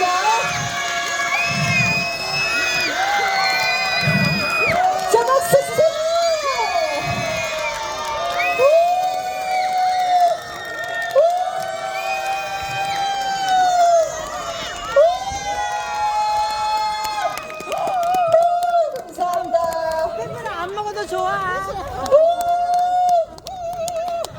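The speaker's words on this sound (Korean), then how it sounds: "박수와 함성 크게 쳐주시는 분들께는 저희가 선물을 나눠드리겠습니다." An audience at an outdoor lakeside dance stage in Yesan cheers loudly and continuously, with high children's shouts and whoops rising in waves throughout.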